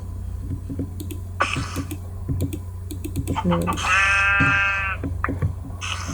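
Sheep bleats in the Minecraft Hexxit video game, a couple of short wavering in-game bleats over a low steady background hum and clicking keys, with a person talking throughout.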